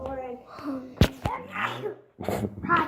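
A sharp, sudden sneeze bursts out near the microphone amid a child's chatter and other voices.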